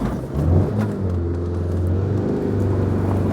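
Engine of an abandoned, restored Proton Satria idling with a slight misfire: a close, steady low rumble with a faintly uneven beat throughout.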